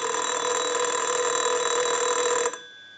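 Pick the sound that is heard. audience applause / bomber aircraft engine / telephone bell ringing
telephone bell ringing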